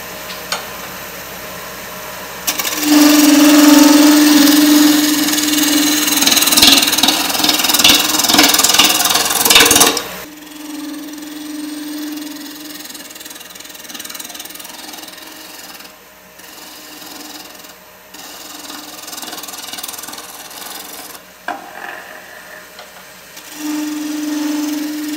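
A wood lathe spins at about 1200 RPM while a tool turns a wig stand, giving a loud scraping, rasping cut that starts and stops, then a quieter steady motor whine between cuts.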